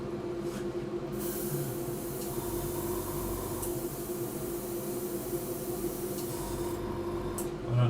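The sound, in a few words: paint sprayer not spraying properly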